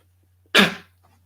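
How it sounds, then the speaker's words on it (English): A person blows their nose once, a short sharp burst of breathy noise lasting under half a second against quiet, with a low constant hum behind. "blow my nose."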